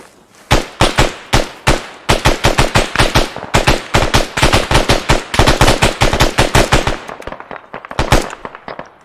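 Rapid automatic gunfire in Arma 3 on a milsim server, loud close bursts of dozens of shots in quick runs with brief gaps, fading slightly toward the end.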